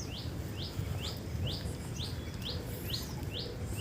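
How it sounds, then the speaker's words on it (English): Birds chirping at Okhla Bird Sanctuary, a green, watery nature reserve: a steady series of about nine short, high chirps at an even pace over soft outdoor background noise, moderately close and fairly quiet. "You can hear bird chirping."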